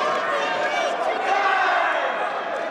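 Big crowd at a San B EWF wrestling show during Scorpio Sky vs Vintage Dragon, roaring and cheering in a dense, sustained wall of voices that fills the arena without a break.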